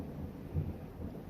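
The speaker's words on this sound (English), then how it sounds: "the weather's really crap right now, so forgive me if you hear a bunch of thunder" Low thunder rumbling faintly in a storm, a soft swell of distant rolling rumble under steady rain-like background noise.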